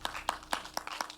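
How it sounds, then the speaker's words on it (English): A school audience at a children's competition claps for a student speaker from Lagos Senior Model College, with five or six crisp, evenly spaced claps of moderate loudness and a faint background, no talk. "Please clap for her."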